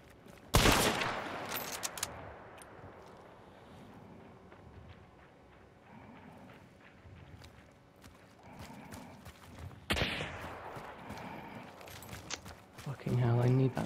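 Sparks pistol shots in the game Hunt, a loud close crack near the start and another around ten seconds, with footsteps and clip-clop movement between and people talking over the action.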